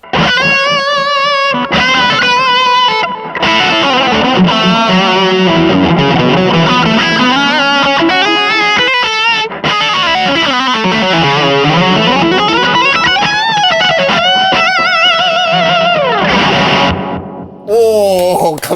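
Distorted electric guitar plays sustained chords and bends through a Limetone Audio buddy delay pedal, with a repeating echo trailing each note and washing behind it, loud and continuous.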